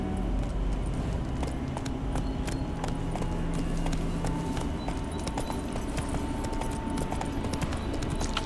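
Roach, a horse in The Witcher 3, galloping with a rapid, steady clip-clop of hooves throughout, close and continuous, over a low rumbling background.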